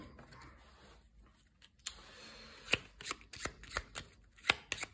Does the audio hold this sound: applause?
no